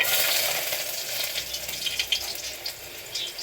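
Garlic drops into hot oil in a pan for pork adobo and sizzles steadily, starting loud and then settling into a softer crackle with a few bursts as it is stirred.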